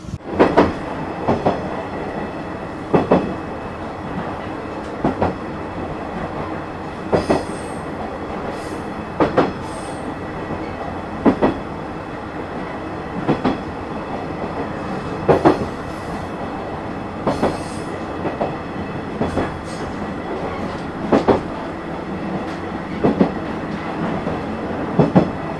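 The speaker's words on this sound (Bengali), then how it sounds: "বর্তমানে আপনারা যে ট্রেনটিকে দেখছেন এটি মূলত লালমনিরহাট এক্সপ্রেস।" Lalmonirhat Express train at Lalmonirhat railway station, a steady rumbling run with regular clickety-clack wheel beats and occasional squeals, close and loud with no talking.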